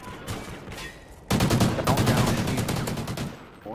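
Rapid automatic gunfire in a Call of Duty: Ghosts multiplayer domination match on the Freight map, starting abruptly after a quieter stretch and continuing as a loud, dense burst of shots to the end.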